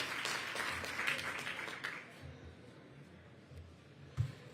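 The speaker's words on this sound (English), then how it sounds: "have them get a round of applause" Audience applause at a press event where Mayor Adams and elected leaders launch a bid for the 2024 Democratic National Convention: faint, distant clapping that is strongest at first and then fades into low room noise.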